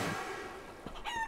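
Chicken in the video game Guacamelee, a few short clucks near the end of a brief clip over a game ambience bed, fairly faint.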